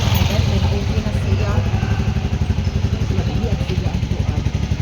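Motorcycle engine running steadily at close range, a continuous low throbbing rumble with mechanical clatter filling the whole stretch, while people talk over it.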